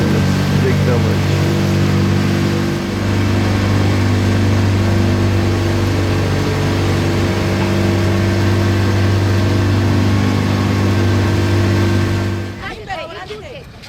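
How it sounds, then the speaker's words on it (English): A boat engine on a trip from Aswan, Egypt, to an island drones steadily with a low, constant hum for most of the stretch, then cuts off abruptly near the end. "So this is the boat that we just took from Aswan to this island."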